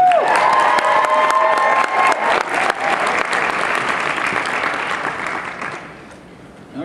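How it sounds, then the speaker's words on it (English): Audience applause for cosplay teams taking the stage at the Katsucon 2014 World Cosplay Summit Eastern Region qualifiers, a dense burst of clapping with some cheering that starts loud and slowly thins out toward the end. "Let's give them a round of applause, please."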